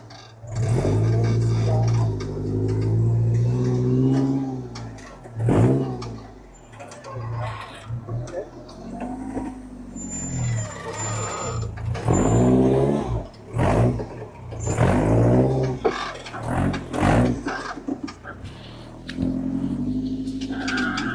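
A rock crawling buggy's engine revs and strains continuously as it climbs a tight trail in Grand Junction, loud and close with surging throttle, while a person talks over it.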